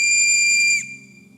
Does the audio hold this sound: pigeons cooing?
no